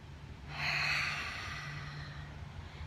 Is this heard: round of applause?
no